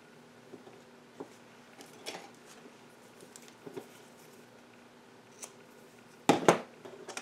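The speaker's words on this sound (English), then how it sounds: "And then you're going to cut the white colored yarn." Scissors snip through white yarn during amigurumi dinosaur crochet, a single sharp cut near the end after a few faint soft handling taps in a quiet room.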